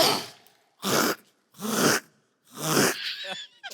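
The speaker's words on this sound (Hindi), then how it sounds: "अबे मैं गला साफ करूं" Several separate bursts of throat clearing and coughing-like noises, loud and close with pauses between them, with no talk over them, during a comedy sketch set around a car that won't start.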